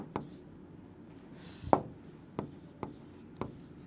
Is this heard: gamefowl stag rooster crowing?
no